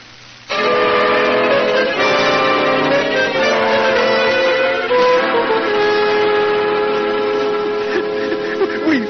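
Train sound effect in an old-time Sherlock Holmes radio drama: a loud, sustained steam whistle blast with bell-like tones and rail rumble starting abruptly and holding for several seconds, with no voices.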